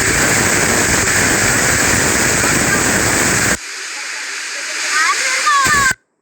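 Harkot waterfall in Munsiyari roars as a loud, steady broadband rush of falling water, then drops to a thinner hiss with some faint higher sounds before cutting out near the end.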